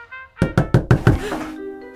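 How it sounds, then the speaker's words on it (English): A series of five sharp, loud knocks on a door in an even rhythm, close by, followed by a fading tonal hum with no voices. "Someone's at the door."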